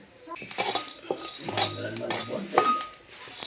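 Whole spices, including cloves, peppercorns, cinnamon and star anise, are roasted in a pan over a wood-fired stove, with a utensil scraping and clinking against the metal in irregular strokes over a soft crackle.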